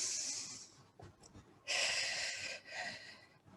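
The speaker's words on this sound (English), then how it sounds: "Deep breath here." Deep, slow breaths during a floor stretching exercise, a long airy exhale in the middle and softer breaths around it, close and quiet with no talking.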